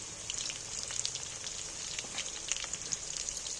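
Cut potatoes fry in hot oil with a steady bright sizzle and crackle that holds level and close throughout, no talking.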